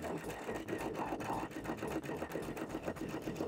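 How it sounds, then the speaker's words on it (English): A sewing machine runs continuously while stitching a seam in dress fabric, a close, steady mechanical whir with a fast, even needle rhythm throughout. "We're going to sew right up, connecting our dots that we drew on the fabric."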